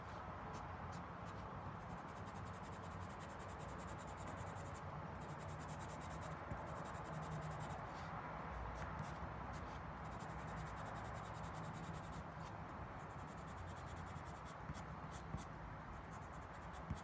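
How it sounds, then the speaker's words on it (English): Pencil shading on paper gives a continuous soft scratchy rubbing of graphite strokes, faint and close, running steadily throughout. "we can grab some pencil here and really hit the top area"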